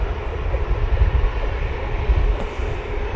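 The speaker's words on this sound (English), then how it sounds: "Off to Malta we'll go with this 737-800 for Jet 2" A Jet2 Boeing 737-800 airliner at Manchester Airport gives off a steady, broad engine roar and rumble that stays even and fairly loud across the whole stretch, with no talking.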